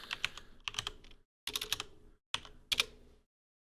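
Typing on a computer keyboard while renaming a drum rack in Ableton, four short bursts of quick, close keystrokes separated by brief pauses, with no voice.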